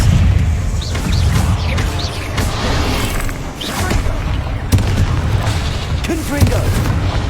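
Spell combat in the Hogwarts Legacy video game, with a cast of Expelliarmus among repeated booming blasts and crashes, loud and continuous, with voices shouting over the fighting.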